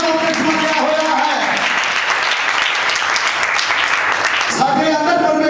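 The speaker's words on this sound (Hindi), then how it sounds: "हालेलुया जोरदार ताली मारो" A church congregation at a Punjabi-Hindi Bible sermon bursts into loud, sustained applause, dense and even throughout, swelling with voices and cheers mixed in.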